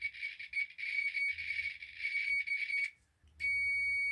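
A multimeter on continuity mode beeps with a steady high-pitched tone for nearly three seconds, stops briefly, then sounds again. The beep is close and clear, with faint handling noise beneath it and no speech.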